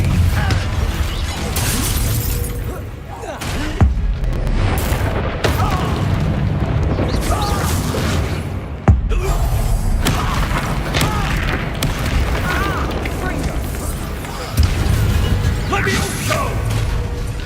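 The Bombarda spell blasts a relic in the Hogwarts Legacy game: loud booms and crashing, shattering impacts over a dense, rumbling mechanical din that runs throughout.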